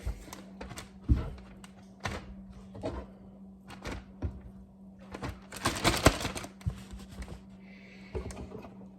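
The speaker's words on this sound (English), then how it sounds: "Just gonna take it and put it in this Ziploc bag." Wild turkey thigh meat is handled and pushed into a Ziploc bag, giving scattered close plastic crinkles, soft thumps and rustles in an irregular rhythm with no talking.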